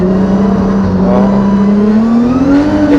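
A drift car at half throttle holds a loud, steady engine drone close up, its pitch creeping slowly upward as the tires slip, with no voices.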